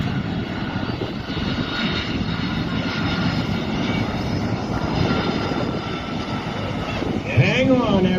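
A C-5M Super Galaxy lands at an air show with spoilers up and thrust reversers engaged, giving a loud, continuous roar of engine noise that swells near the end, with a voice talking over it.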